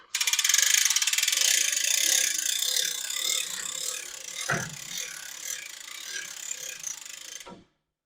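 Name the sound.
Lift King lift mechanism raising a semi truck hood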